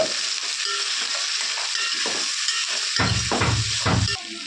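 Soaked peas are stirred in a frying pan of hot oil for vegetable biryani, with a steady hiss of sizzling throughout and heavier scraping, stirring strokes toward the end, close and fairly loud.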